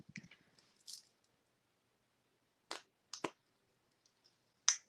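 A paintbrush handle stirs a small batch of chalk paste, making a few quiet, wet squishes and soft clicks scattered across near-silence, each short and close.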